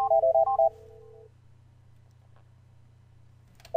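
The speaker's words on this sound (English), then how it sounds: "I'm going to transfer John to Morgan now." Rapid DTMF dialing tones from an NEC SV9100 office phone system during a call transfer, about six quick beeps followed by a steady held tone, then quiet line hum.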